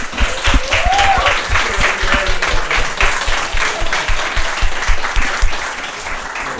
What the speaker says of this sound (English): Every round of applause for Brian.